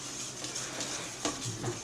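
Hand stirring of flour into vegan Italian bread dough in a bowl makes quiet soft scraping and rubbing, with a few light knocks, in a near, low-level texture.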